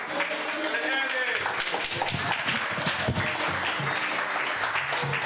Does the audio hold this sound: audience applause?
yes